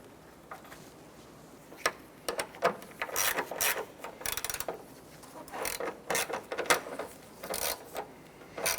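A screw snugged down on the plastic retainer of a bumper shock absorber on a 2006-2013 Chevrolet Impala: irregular close clicks and short ratcheting bursts, some louder than others, over a quiet background without speech.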